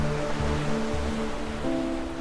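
Pacific Ocean surf at Capitola Village near Santa Cruz, California, a steady wash of breaking waves with low tonal hum beneath, continuous and moderately loud throughout.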